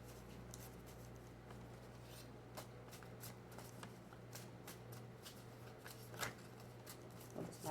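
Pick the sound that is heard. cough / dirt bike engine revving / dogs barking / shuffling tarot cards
shuffling tarot cards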